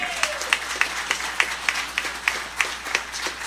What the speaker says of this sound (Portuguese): Ofereça um aplauso a Jesus por isso, então.